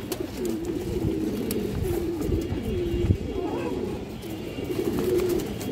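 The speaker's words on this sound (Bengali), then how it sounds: "এটি কিন্তু ইরানের কবুতর মাশাআল্লাহ।" A large male Iranian pigeon with clipped wings coos close by in repeated low, throaty rolling phrases.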